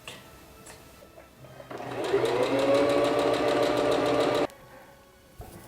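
A sewing machine runs steadily for a few seconds stitching a dress seam, a close, even mechanical whir with rapid needle clatter that starts and stops cleanly in a quiet room.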